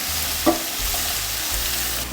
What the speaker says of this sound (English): Give it a good stir to combine.